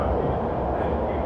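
A new BART Fleet of the Future train at Berryessa station in North San Jose gives a steady, loud rumble that holds evenly throughout with no clear start or stop.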